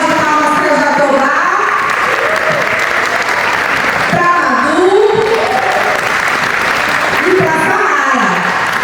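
Audience applause at a cultural showcase event, dense continuous clapping from a crowd while someone speaks loudly over it through amplification.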